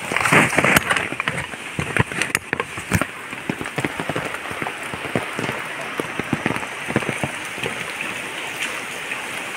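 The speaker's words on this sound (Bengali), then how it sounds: "বৃষ্টি হয়েই চলে, বৃষ্টি তো থামছেই না" Heavy rain from Cyclone Remal lashes a garden in a loud, dense, unbroken patter, with sharper drips and splashes landing close by.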